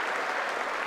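A brief, dense burst of crowd applause at the State of the Union address, even and sustained with no voices on top.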